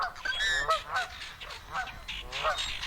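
Canada geese honk repeatedly at a wetland, a loud, clustered series of nasal calls rising and falling over steady outdoor background noise, with no talk.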